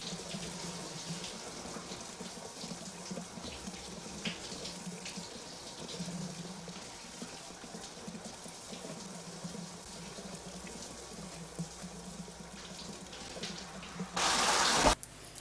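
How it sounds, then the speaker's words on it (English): A shower runs in a horror film scene, a steady hiss of spraying water that goes on throughout and is loudest in a short burst near the end. "I do believe we get a good shot of Lisa Wilscock in the shower"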